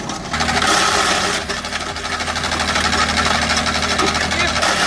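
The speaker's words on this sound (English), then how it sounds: "those Valtra tractors have some serious muscle. Love the sound of that engine." A Valtra tractor engine labors steadily while pulling a stump, a loud continuous mechanical drone with a rhythmic knocking pulse that holds close and constant throughout.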